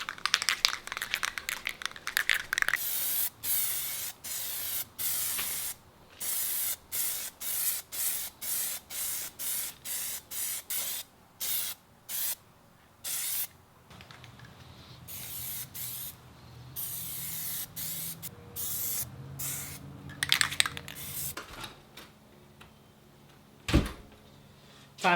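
Plasti Dip sprayed from an aerosol can onto a Mustang, repeated hissing bursts of varying length separated by short pauses, with a few clunks and rustles near the end.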